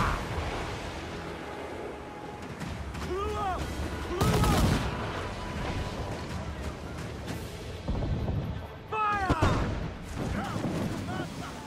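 Ship cannons boom in repeated volleys at a frigate during a naval battle in Assassin's Creed Black Flag, heavy blasts around 4 and 9 seconds amid ongoing battle noise, with people talking throughout.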